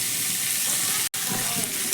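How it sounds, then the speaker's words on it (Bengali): Chopped curry leaves and cumin sizzle hard in hot oil, a dense crackling fry that runs nearly unbroken, with one very short gap in the middle. "কারি পাতা দিয়ে কিন্তু খুব বেশিক্ষণ ভাজা করব না"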